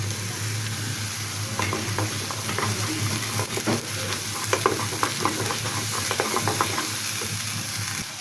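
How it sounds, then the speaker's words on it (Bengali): Two spoons of ginger-garlic paste fry with browned onions in a pan, with a continuous sizzle under repeated scraping strokes of a spoon stirring close by, and no talking. "এখানে আমার পেঁয়াজটা ভাজা হয়ে গিয়েছে। তো আমি এখানে দিয়ে দিচ্ছি 2 চামচ আদা রসুন বাটা।"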